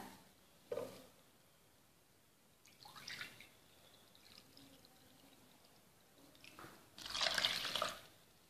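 Ground chickpeas and water being mixed for Algerian karan, heard as soft wet pours, sloshes and splashy stirring in a few separate bursts, close but quiet, with near silence between.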